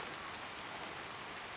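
Steady rain falls in an even, continuous hiss, soft and diffuse with no distinct drops standing out, forming a calm sleep ambience.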